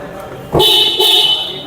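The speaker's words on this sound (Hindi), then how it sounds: "तो ये 2 बार हॉर्न बजेगा एंड आपकी बूट ओपन हो जाएगी" A Tata Safari Adventure Plus car horn beeps twice in quick succession, short and loud, very close by, with a faint hum underneath, signalling the boot opening.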